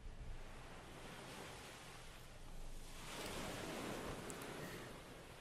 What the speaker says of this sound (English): now we're gonna relax it, put the waves in.